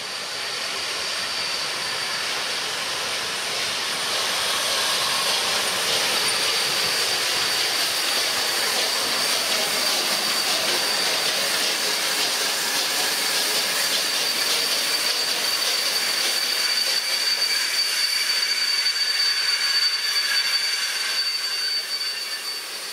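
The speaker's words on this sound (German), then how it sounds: "Wir sehen hier die Garnitur bei der Einfahrt in den Bahnhof von Bordesholm." Train hauled by the Romanian locomotive 131060 rolling into Bordesholm station, a loud sustained broadband rumble and hiss of wheels and cars with a thin high squeal running through it, steady for over twenty seconds.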